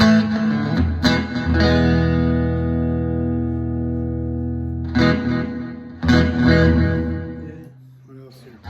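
A 2013 Fender Stratocaster American Standard electric guitar plays sustained chords through delay and reverb effects, loud and ringing with long echoing tails between strums, with no talking over it.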